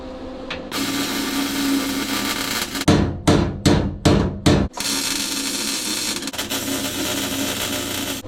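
Metal is hammered on the rusted body of a 1969 Camaro: a burst of about five loud, sharp, evenly spaced blows stands out close up against a constant shop hum.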